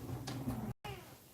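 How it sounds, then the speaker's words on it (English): A pet cat meows once, close and fairly quiet, in a room, followed by a short gap and soft low room noise. "Yeah, Tig says meow"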